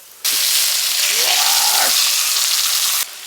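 Pork makchang (grilled intestines) sizzles loudly on a grill in a steady, close hiss that starts and stops abruptly, with a faint voice-like tone briefly audible in the middle.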